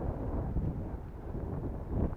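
Wind blows across an open grassy field on a breezy day, a steady low rumbling gust buffeting the microphone for about two seconds with no other sounds.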